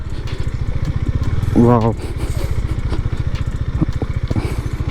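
A parked motorcycle idles nearby with a steady, rapid, even thump of engine pulses that runs throughout, while a man briefly exclaims over it.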